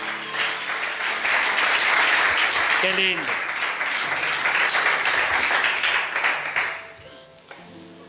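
A church congregation bursts into sustained, loud applause, with a few voices and cheers mixed in. The clapping fades out near the end as a voice speaks briefly.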